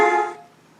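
A car horn heard from outside the car as it passes: a single short, bright honk that fades quickly.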